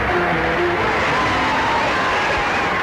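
Crowd of onlookers at a movie premiere for Flower Drum Song, cheering and applauding for arriving stars: a dense, continuous roar of voices and clapping with scattered shouts, steady throughout.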